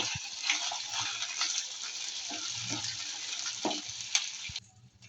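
Ginger garlic paste sizzles steadily in a hot pan for Kashmiri chicken, with a few soft scraping stir strokes, fairly quiet and close, fading out at the very end.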